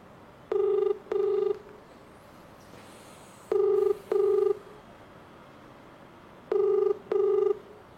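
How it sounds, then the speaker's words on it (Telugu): An outgoing phone call rings on the line: three pairs of double ringback tones, evenly spaced and clear, with quiet gaps between them and no talking. "ఒకసారి అయితే కాల్ చేద్దాం మనం."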